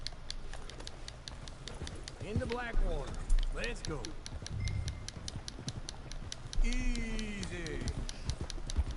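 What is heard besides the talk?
horse hooves clip-clop in Red Dead Redemption II, video game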